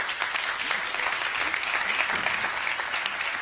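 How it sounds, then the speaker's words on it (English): A conference audience at a NATO event claps in a dense, sustained round of applause, steady and close throughout. "This is your applause."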